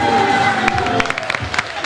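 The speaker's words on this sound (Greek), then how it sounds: "Ένα μεγάλο θερμό χειροκρότημα για σας" A theatre audience at a Greek stage performance claps steadily, a dense wash of applause with a few shouts rising through it.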